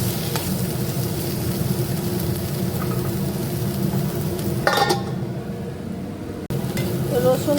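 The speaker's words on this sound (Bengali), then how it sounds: "রসুনটা ভাজা ভাজা হয়ে গিয়েছে" Boiled garlic fries in a pan on a new gas stove, a steady close sizzle running throughout with a few brief clatters partway through.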